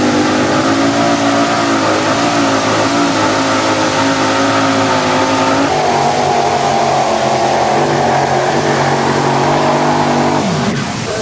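Unlimited Modified pulling tractor at a 1994 NTPA tractor pull in Fort Recovery, Ohio, its engines roaring loud and sustained for the whole stretch, pitch shifting midway and dropping off near the end.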